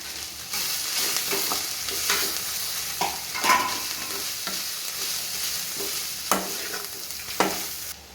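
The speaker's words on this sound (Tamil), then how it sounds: "இப்போ இந்த ஸ்டேஜில் நம்ம தேங்காய் பூ திருவி வச்சுருந்தால ஒரு கால் மூணு தேங்காய் பூ அதை கொட்டி நல்லா கிளறிக்கலாங்க" Drumstick leaves tossed with grated coconut in a pan for a Tamil poriyal sizzle steadily while a utensil scrapes and stirs through them in repeated close strokes.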